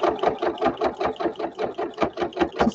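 A sewing machine runs a straight stitch, attaching elastic to a vintage journal cover, in a steady, fast mechanical chatter with an even rhythmic pulse throughout, close and alone.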